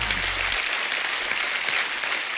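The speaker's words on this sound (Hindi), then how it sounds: "इस बात के लिए तालियां पहले तो।" Studio audience at a Hindi comedy talk show breaks into dense, sustained applause, loud and steady for the whole stretch with no voices over it.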